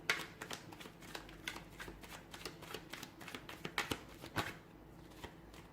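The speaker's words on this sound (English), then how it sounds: "Give the cards a shuffle" Playing cards being shuffled, a quick series of crisp riffling flutters and taps, close and fairly quiet, with no voices.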